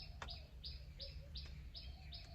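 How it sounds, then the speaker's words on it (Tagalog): Repeated high, thin bird chirps in a jungle in a steady series over a low, constant background hum, fairly faint and distant. "Yung mga ibon. Ang sarap. Tingnan nyo, pakinggan nyo guys."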